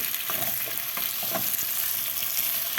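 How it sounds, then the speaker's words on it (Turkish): Onions and potatoes frying together in oil for a Turkish potato meatball stew give a steady, close, loud sizzle with faint crackles and stirring scrapes, and no voices. "Soğanları, patatesleri, soğanlarımı yağla beraber güzel kavurduktan sonra"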